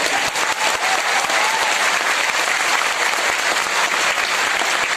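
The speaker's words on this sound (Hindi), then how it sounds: "अभिमन्यु के सम्मान में तालियां बजनी चाहिए।" Strong, continuous audience applause at a talk in Varanasi, many hands clapping densely and evenly for several seconds, close and loud.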